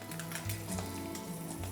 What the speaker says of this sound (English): we're gonna put the skin down and we're gonna let it sear the skin for about 3 to 4 minutes